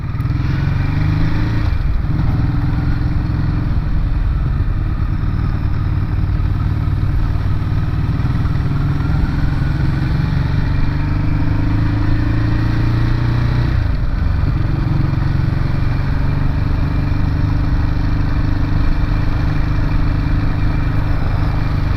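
Ducati motorcycle riding on an open road, a steady loud engine drone with low rumble and wind roar running continuously, near and unbroken throughout, no voices.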